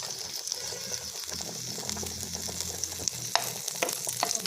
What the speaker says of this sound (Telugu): వెల్లుల్లి రెబ్బలు వేసుకొని ఫ్రై చేసుకోవాలి